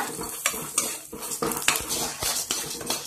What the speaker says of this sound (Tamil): இப்போ கடலைப்பருப்பையும் பூண்டையும் நல்லா பொன்னிறமாக வர வரைக்கும் வதக்கி எடுத்து வச்சுக்கோங்க